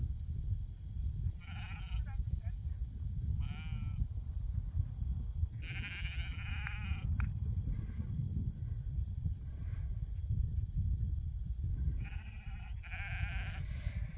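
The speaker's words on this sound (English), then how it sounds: "It is much easier to bring the feed to the sheep than to bring them out here" Sheep bleat several times in a farm pasture, spaced out at moderate distance over a constant low rumble of wind and a steady high insect-like whine.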